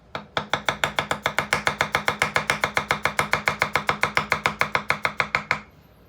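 Damascus VG10 kiritsuke chef's knife slicing food on a board, roughly thirty-five crisp, evenly paced cuts in quick succession, close and clear, ending in a brief quiet tail.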